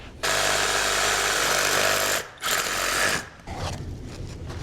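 A power tool cutting out a rotted wooden sill plate, a loud, steady buzzing roar for about two seconds, a brief pause, another short burst, then a rougher, broken grinding as the cut finishes, with no talk.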